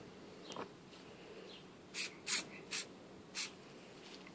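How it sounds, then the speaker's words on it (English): Hairspray from an aerosol can coats scale model tank tools in a few short, quiet hissing bursts spaced about half a second apart, close to the microphone in an otherwise quiet room. "you just give it a quick going over with hairspray"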